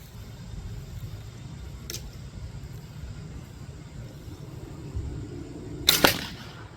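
An arrow is loosed from a Persian bow outdoors, a single sharp snap and thwack late in the clip after a faint earlier click, over low steady background rumble.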